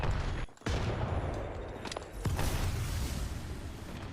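Gunfire and a grenade blast from the Apex Legends battle royale game, loud dense bursts of shots with a brief drop and sharp hits, close and alone without talk.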